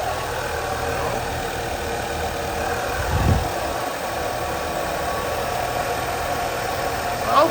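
A car engine runs after a one-twist key start, a steady mid-pitched idle with a low rumble and slight knocking vibration, close and continuous with no talk over it.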